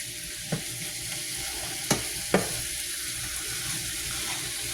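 Ground meat frying and sizzling in a pan, a steady close hiss broken by three sharp clinks of a utensil stirring against the pan.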